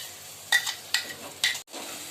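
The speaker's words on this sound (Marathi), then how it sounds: "आपला मसाला छान तेल तर मस्त परतून घ्यायचा आहे" Ground masala sautéing in oil in a pan: a low, continuous sizzle broken by three brisk scraping stirs of a spoon, heard close up with no talking.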